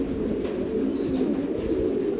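Several domestic pigeons of assorted breeds coo steadily in a low, continuous murmur, close by, with a few faint chirps above the soft throaty calls.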